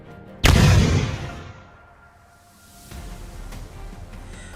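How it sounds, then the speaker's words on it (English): A drone strike detonates on a motorcycle carrying troops through a city in the Ukraine war, one sudden loud blast with a long rumbling decay, followed by faint crackling and distant thuds. "The drone impacted the motorcycle directly, engulfing it in a fiery explosion."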